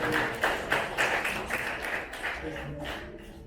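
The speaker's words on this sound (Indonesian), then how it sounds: "Tepuk tangan ke semuanya." An audience in a seminar room claps in scattered bursts, the applause fairly close and uneven, with voices mixed in underneath.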